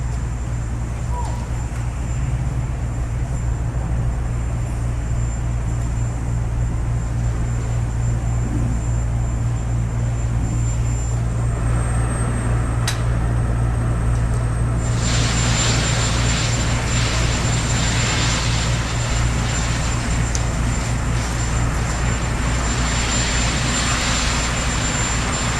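Presidential helicopter departing Washington after the 2017 inauguration, a loud continuous rotor and engine roar that thickens and swells toward the end, with no talk.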